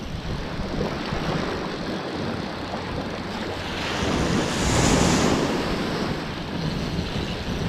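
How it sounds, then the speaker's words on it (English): Ocean surf rolls and breaks on a beach under steady wind rumble, a larger wave swelling and crashing about midway before easing back to a continuous wash; no one speaks. "There's some big waves."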